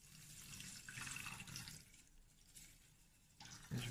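Filtered water poured from a jug for herbal detox tea, a steady close liquid rush running continuously with small surges, ending in a brighter splash.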